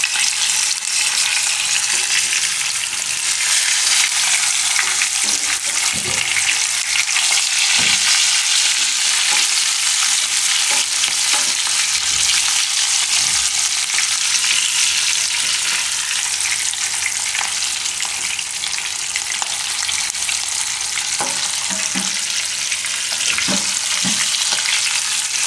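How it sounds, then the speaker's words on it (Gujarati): Stuffed green chillies frying in a pan of oil, giving a loud, continuous close sizzle with faint stirring and scraping touches throughout, no voices. "એક વારમાં હમાય એમ ન હોય તો આ રીતે 2 બાજુ શેકી લેવાનું।"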